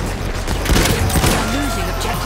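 A 12-gauge shotgun in Battlefield 1 fires a couple of sharp, heavy blasts in quick succession amid game action, followed by a brief stretch of talk.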